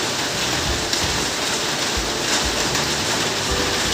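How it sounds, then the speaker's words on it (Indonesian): Heavy rain pours down in a dense, loud, unbroken hiss, steady throughout with no voices. "Maaf, ini di sini lagi hujan deras, jadi suaranya agak berisik"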